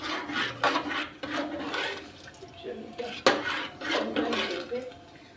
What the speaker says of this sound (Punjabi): ਸਾਰੀ ਦਾਲ ਨੂੰ ਚੰਗੀ ਤਰ੍ਹਾਂ ਮਿਕਸ ਕਰ